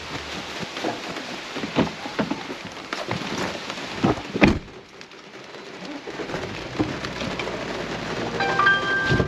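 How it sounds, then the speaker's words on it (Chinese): An afternoon thunderstorm breaks over a mountain campsite in Fuxing, Taoyuan: steady rain patters on surfaces while a thunder crack lands midway and the downpour grows heavier toward the end. "下雨了， 这是什么天气啊？ 午后雷阵雨啊"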